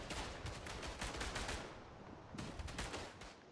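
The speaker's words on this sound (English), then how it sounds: "Literally, even a bomb just landed on me." Gunfire and bomb explosions in a World War I video game, rapid bursts of shots crackling in dense clusters with a short lull before another volley, faint overall and without talk.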